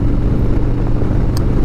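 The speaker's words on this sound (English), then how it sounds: "this is a touring bike, and I can see being on this thing all day, out on an interstate or roads like this" A 2018 Harley-Davidson Road Glide touring motorcycle with the Milwaukee 107 cubic inch engine, riding along an open road: a steady, loud low engine drone with constant rumble and wind, no break in it.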